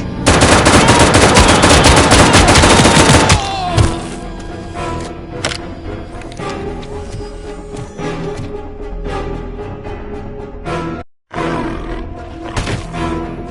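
The ED-209 robot opens fire in a long, loud burst of rapid automatic gunfire, followed by quieter rumbling, scattered impacts and mechanical noise, with a brief dropout near the end.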